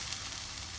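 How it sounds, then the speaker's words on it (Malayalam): Pulsed puree of two medium tomatoes goes into a sizzling pan for a dhaba-style paneer masala, producing a brief, steady, close hiss of frying. "2 മീഡിയം സൈസ് തക്കാളി ചെറുതായിട്ടൊന്ന് മിക്സിയിലിട്ടിട്ടൊന്ന് പൾസ് ചെയ്ത് എടുത്തതാണ്. അത് ഇതിലേക്ക് ഇടുകയാണ്."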